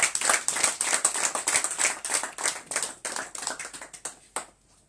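An audience at a church outreach gathering in Bali, Indonesia claps hands in a fairly loud, rapid burst of many hands, sustained for several seconds before thinning out near the end.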